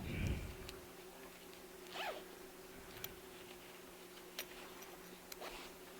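A metal slide rasps along a freshly sewn zipper in a quiet sewing room, one clear pull followed by a few faint ticks and small handling noises, with no talk.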